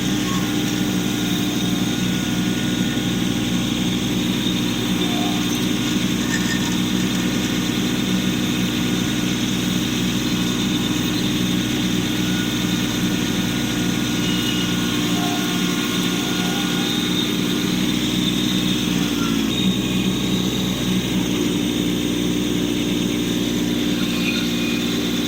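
Kubota compact tractor snow blowing a frozen pond rink, its engine running steadily and loudly throughout with a constant mid-pitched drone, one brief dip in tone near the end, no voices.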